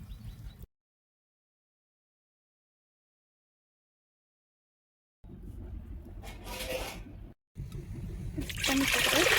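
Water is poured while making rasam, a faint trickling splash that stops abruptly, followed by a long silence, then a louder stream of pouring and sloshing that builds toward the end.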